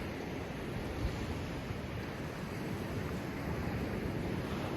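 Waves wash steadily onto the Baltic Sea shore in Denmark in winter, a continuous broadband surf hiss mixed with wind buffeting the microphone and no voices.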